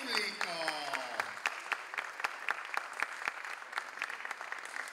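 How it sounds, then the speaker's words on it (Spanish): Audience at a Peruvian circus show clapping for a performing chicken act, continuous mid-distance applause with distinct sharp claps, a voice briefly heard at the start over the clapping. "Por favor, reciban ese gran aplauso de nuestro público."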